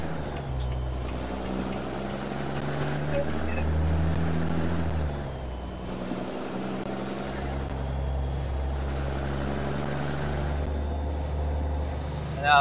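Truck fitted with a Cat engine in American Truck Simulator, its low diesel drone steady and loud throughout, rising and falling in pitch as it shifts, with a hiss of air brakes near the end.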